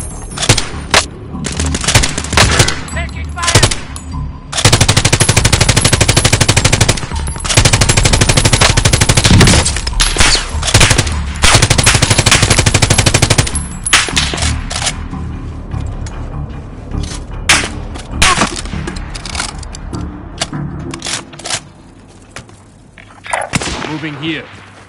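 Loud gunfire crackles in a battle royale video game, long bursts of automatic fire alternating with shorter volleys and single shots, with game voice lines heard between them.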